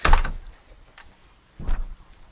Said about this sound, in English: Close the door with my bum.